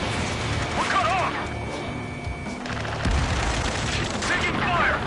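Sustained gunfire in the Ace Combat 7 video game, dense overlapping shots and crashes over a continuous battle din, with shouted radio chatter mixed in.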